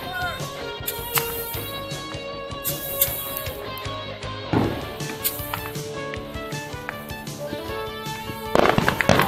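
Fourth of July fireworks exploding in a dense, continuous barrage of bangs and crackles, with louder bursts around the middle and a heavy flurry at the end; a person speaks briefly over the noise.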